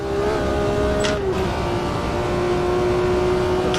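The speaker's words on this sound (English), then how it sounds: "No engine damage, but every time I accelerate it jumps out of fucking gear." BMW M1 Procar engine in the AMS2 racing game accelerating with a gearbox fault, a loud steady engine drone whose pitch rises, briefly drops and resumes, over constant track noise.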